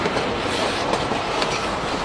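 An Alaska gold rush train near Skagway rolls steadily along its rails, giving a continuous close rumble with dense wheel clatter and no voices.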